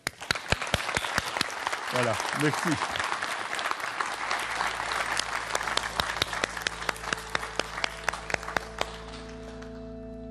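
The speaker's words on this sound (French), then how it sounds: "On l'applaudit" A congregation at a televised mass in Ottignies Louvain-la-Neuve applauds steadily and loudly, a dense roomful of clapping that begins at once and carries on to the end, with a brief spoken remark and organ-like sustained tones entering partway.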